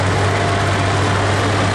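A John Deere tractor engine labors at a vintage tractor pull, a loud steady low throbbing roar held close throughout the short stretch, no voices.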